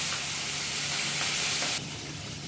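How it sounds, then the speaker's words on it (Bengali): Shrimp coated in salt and turmeric frying in a pan while being stirred, a loud continuous sizzle that drops slightly in level near the end. "ভালোভাবে নেড়ে চেড়ে চিংড়ি মাছগুলো ভেজে নেওয়া হবে"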